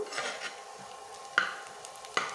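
Onions frying to light brown in a pan, a steady sizzle with a couple of sharp spatula scrapes and taps against the pan, close and alone.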